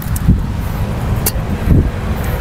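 Wind gusting against the microphone outdoors, a steady rumbling roar with a couple of soft thumps, loud and close.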